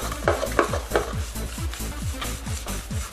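Wet sanding with waterproof sandpaper on a surface being prepped for spray paint: rhythmic back-and-forth rubbing strokes, about eight evenly spaced wet scrapes, close and moderately quiet, with no talking.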